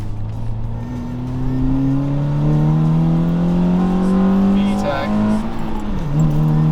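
A car pulls hard through its gears after a new shifter upgrade, the engine note climbing steadily and close for several seconds, then dropping briefly at a shift before rising again, with people talking over it.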